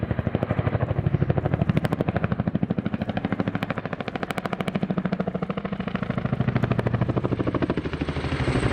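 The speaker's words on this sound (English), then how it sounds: "So here's the aircraft running decelerate through 85 knots" An RAF Chinook twin-rotor helicopter at the RAF Cosford Airshow 2019, decelerating through 85 knots: a loud, continuous rapid rotor chop with a heavy engine roar, steady and near throughout.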